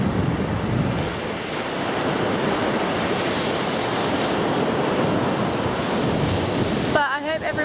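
Surf rolls onto a beach in Australia as a loud, continuous wash of waves, mixed with wind rumbling against the microphone.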